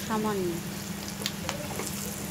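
Spices fry with green chili paste in a pan, giving a steady close sizzle with a few stirring clicks; a brief tonal squeak sounds at the start.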